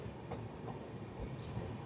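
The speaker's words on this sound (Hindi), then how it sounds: "एंटर कर रहे हैं रानी कमलापति रेलवे स्टेशन।" The Indore to Jabalpur Overnight Express rolls into Rani Kamlapati railway station, heard from inside a sleeper-class coach as a faint, steady low rumble with soft rattling and a brief high squeal near the end.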